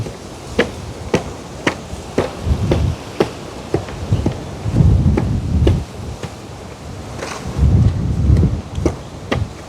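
Rain and thunder from a storm over a rural home, steady rain hiss with repeated sharp cracks and swelling low rumbles, loud and close, with no talk.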